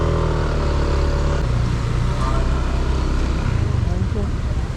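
A motorcycle engine hums steadily up close on the road to Antipolo Church, a continuous low drone with slight revving while a voice talks over it.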